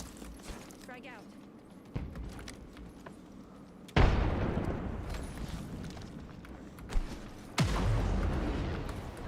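A frag grenade thrown and detonating in the video game Apex Legends, with heavy booming blasts standing out loudly over ongoing game noise and some talk.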